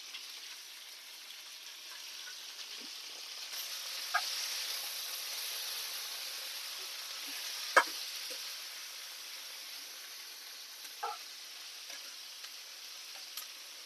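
Garlic flakes fry in oil with a soft, steady sizzle and hiss, punctuated by a few faint pops and clicks, quiet and close.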